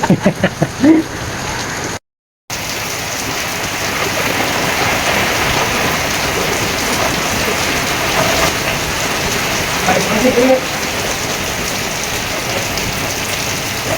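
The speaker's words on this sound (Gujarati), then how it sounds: "વરસાદ સરસ મજાનો વરસાદ આવી ગયો છે" Heavy monsoon rain pours down steadily in Damnagar, a loud, dense, continuous hiss of water on surfaces with no letup, briefly cut off once near the start.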